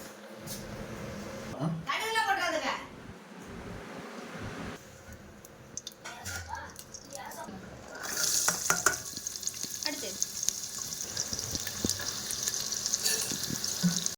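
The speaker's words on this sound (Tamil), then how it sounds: "வெங்காயம் பெருஞ்சீரகம் நல்லெண்ணெய் எல்லாம் ஊற்றி நல்லா வதக்குறோம்" Onion and fennel sautéing in sesame oil, soft stirring scrapes and a sizzle that swells louder in the second half, with a voice speaking over parts of it.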